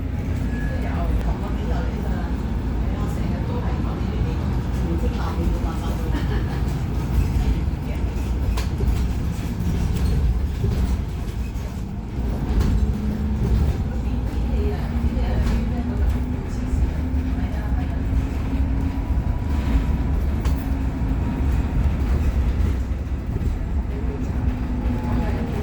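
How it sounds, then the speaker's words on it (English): A Hong Kong metro train heading toward Admiralty rumbles past near a moving double-decker bus, a loud continuous rail roar and rattle that fills the whole stretch. "And our train, there it goes to Admiralty direction."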